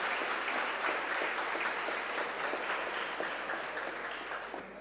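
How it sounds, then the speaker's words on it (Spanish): An audience applauds at a book presentation, a dense, even round of clapping that holds for a few seconds and then slowly fades. "Pueden aplaudir."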